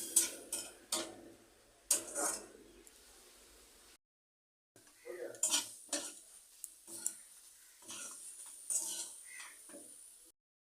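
Spices stirred in a pan with a splash of water added, heard as quiet, intermittent spoon clinks and scrapes against metal, with a short silent break partway through.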